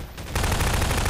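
Rapid automatic gunfire from the Garry's Mod Flood game, a dense continuous burst that starts after a quieter moment and sounds close and loud.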